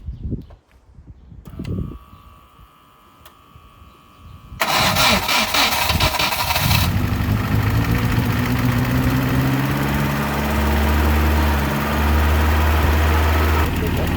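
A Ford Sierra Cosworth engine cranks, catches and settles into a loud, steady cold idle at high revs after a few quiet clicks and brief handling noises.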